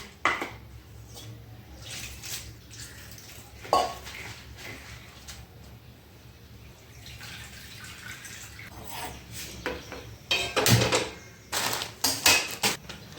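Soaked grains are rinsed in water in a kitchen vessel, giving irregular soft clinks, splashes and drips at low volume, with no talking.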